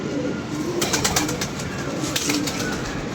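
Pigeons coo softly in repeated low, rolling calls over a constant background hiss.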